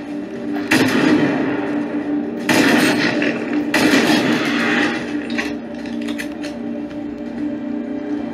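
Gunshots in the video game Fortnite, with loud, sharp bursts of gunfire and echoing blasts close by, separated by short lulls over a steady game background hum.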